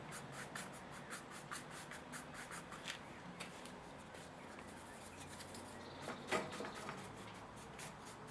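A hake brush sweeps watercolour paint onto paper in quiet, rhythmic scratchy strokes, soft and close, repeating steadily with a few heavier dabs.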